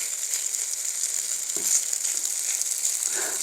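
Shredded zucchini pancake frying in oil in a frying pan, a continuous, bright, close sizzle with a short scrape partway through, heard alone without talking.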